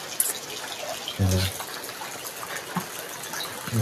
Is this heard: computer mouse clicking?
no